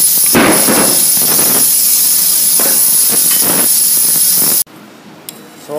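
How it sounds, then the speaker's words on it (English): Arc welding on a steel angle plate, a loud continuous hiss and crackle with periodic surges as fillet beads are laid, running steadily before cutting off abruptly near the end into quiet room tone. "So what that means, we've got to start welding on the other side."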